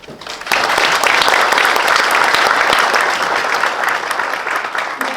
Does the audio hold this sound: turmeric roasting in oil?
no